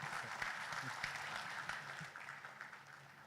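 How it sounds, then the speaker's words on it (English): An outdoor audience applauds at the grand launch of a port pier, a steady wash of clapping that slowly thins out, with some voices mixed in. "A big round of applause, please."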